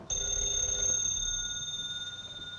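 An old 1930s telephone rings with a steady electric bell tone, loud at first and then continuing more softly, with no voices.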